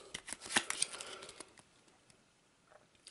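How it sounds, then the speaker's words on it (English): A research encounter card deck from the Eldritch Horror board game being shuffled by hand, a quick run of soft papery riffle clicks close up, then trailing off into a few faint scattered taps. "We'll give it another shuffle."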